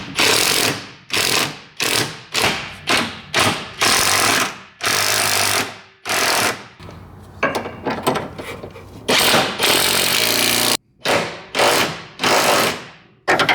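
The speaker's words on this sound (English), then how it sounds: "Now let's go ahead and tighten the end links." An impact wrench tightens the sway bar end links on a Mitsubishi Lancer Evolution 8 during a Whiteline suspension install, loud close rattling bursts of hammering, each lasting about half a second, repeated in quick succession with short gaps.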